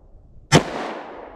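A single loud, close gunshot from a semi-automatic firearm firing a light 90 grain bullet, a sharp crack followed by a long fading echo.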